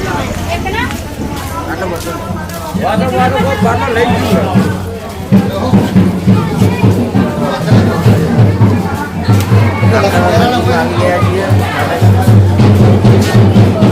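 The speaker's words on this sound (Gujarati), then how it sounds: "પબ્લિકની બહુ ભીડ છે એટલે અવાજ આવે ના આવે એવું લાગશે તમને" Dense crowd hubbub fills a busy Gujarati temple, a steady loud babble of many voices with a low droning hum underneath; a nearby voice talks over it throughout.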